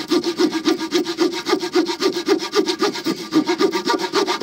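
The saw blade of a Victorinox RangerGrip 130mm pocket knife rasps through wood in quick, steady back-and-forth strokes, close and continuous, with no voices.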